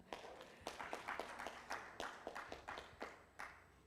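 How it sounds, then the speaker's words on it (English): Hand claps at a World Vision Uganda gathering, about a dozen sharp, separate claps in a loose, uneven rhythm, fairly quiet and distant with no talking over them. "For sure, it needs a hand clap."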